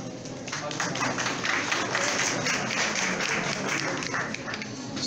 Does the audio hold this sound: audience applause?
yes